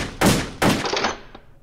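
Two sharp AK47 rifle reports from the World of Guns shooting range ring out close and loud, about a third of a second apart, then tail off into a fading echo.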